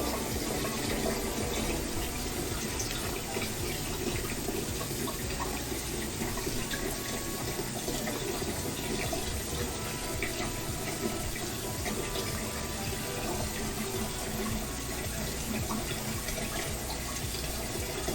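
Hot water runs from a tap into a filling sink, a steady, close rushing gush that stays even throughout with no talk.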